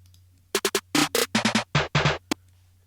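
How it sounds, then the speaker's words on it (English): A snare roll sample from a drum kit, used at the end of a chorus in a trap beat, sounds as short bursts of quick, bright, tonal hits in uneven clusters over a low hum, ending with one isolated stroke. "finally we have this snare roll"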